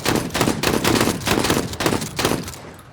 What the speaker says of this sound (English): let's miss entirely and then go back to the old faithful shotgun